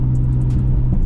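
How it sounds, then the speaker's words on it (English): Nissan R32 GTR engine while driving on a mountain road, a low steady droning hum heard up close for about a second. "This car sounds good."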